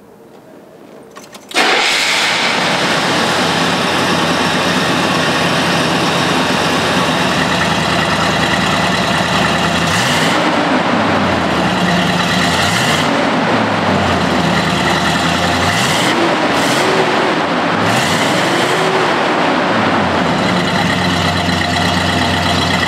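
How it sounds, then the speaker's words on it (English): A 1971 Buick GS V8 rumbles at a steady idle through a reproduction factory-style dual exhaust, deep and loud, with a few throttle blips swelling and falling midway. "This engine makes great torque, and that unique Buick sound through the reproduction factory-style dual exhaust system."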